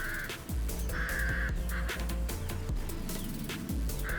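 Several crows caw repeatedly in harsh, steady calls over a loud, continuous rumbling background.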